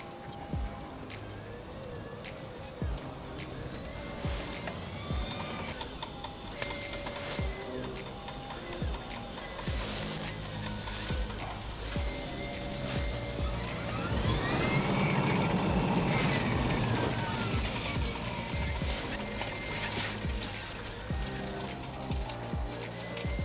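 An 1980s Toyota truck converted to a Tesla Model 3 electric motor drives along, its motor whine rising and falling over rolling road and mechanical noise, with a louder surge partway through.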